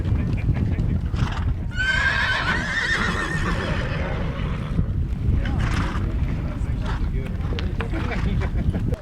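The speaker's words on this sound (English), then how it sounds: "The horses come charging out of the big holding corral" A herd of horses charging out of a large holding corral at the start of the Great American Horse Drive, with loud whinnies and neighs over steady hoof rumble and wind buffeting, mixed with talk throughout.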